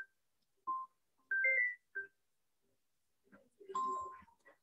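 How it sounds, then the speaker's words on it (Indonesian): A phone ringtone plays a short sequence of clean electronic beeps and tones, quiet and alone, followed by a brief busier melodic burst. "Sebentar saya angkat dulu telepon ya."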